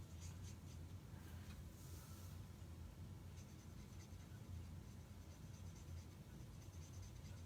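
Brush-tip marker rubbing over paper in steady circular strokes while coloring a stamped candy-wrapper card, a faint continuous scratchy swish with no talking.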